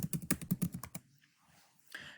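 A burst of quick computer keyboard typing, about ten crisp keystrokes in a fast rhythm, ends abruptly. A short quiet stretch follows, then a faint click or rustle. No voices.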